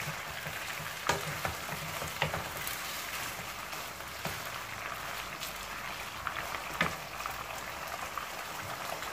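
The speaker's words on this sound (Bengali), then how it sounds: "গোলমরিচের ফাঁকিটা দিয়ে 1 মিনিটের মধ্যে একটু ভেজে নিব" Ground black pepper frying in oil in a pan, a steady broadband sizzle that runs the whole time at moderate level, with a few soft clicks and knocks of a utensil scattered through it.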